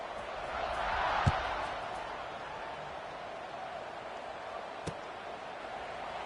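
Broad roar of a stadium crowd in College Football 26 before a kickoff, a steady wash of noise that swells slightly early on, with a couple of faint thumps.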